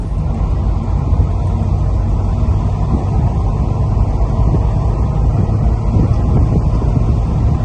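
A Porsche 993 Carrera 4 engine idles steadily at close range, a continuous low rumble with faint wind noise and no voices.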